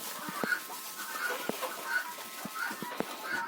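Hens cluck softly in a backyard coop, with a few short, quiet calls repeating over low background noise.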